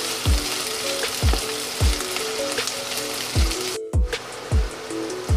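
Onion, garlic and ginger stir-frying in a pan, a constant close sizzle with regular rhythmic scrapes of the spatula about once a second, and a brief gap in the sound just before the four-second mark; no one speaks.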